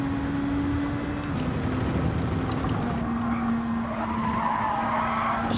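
Car tyres skid and squeal through understeer in Gran Turismo 7, a steady engine drone underneath with a sustained tyre scrub running the whole time, loud and continuous.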